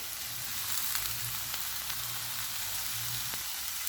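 Chopped onion, tomato and medium capsicum stir-fry on a high flame in a steady, close hissing sizzle with faint stirring clicks and a low burner rumble underneath, and no voices.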